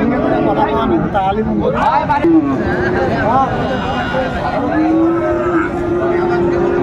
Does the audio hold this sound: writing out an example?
no